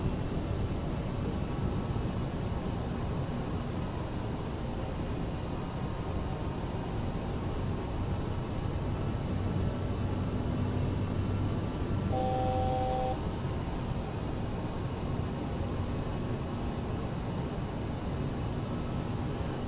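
Aerosoft CRJ jet engines in Microsoft Flight Simulator drone in a steady, unbroken roar that holds even and loud throughout, with no talking over it.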